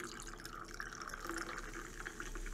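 Tonic water poured into gin makes a soft, steady fizzing trickle, faint and continuous throughout, with no voices.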